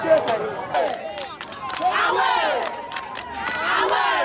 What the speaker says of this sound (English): you can hear the crowd hooting at them